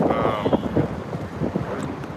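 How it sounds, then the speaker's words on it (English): Wind buffets an outdoor microphone without pause, a loud rumbling roar that never drops out for the whole stretch. "It's a little windy today."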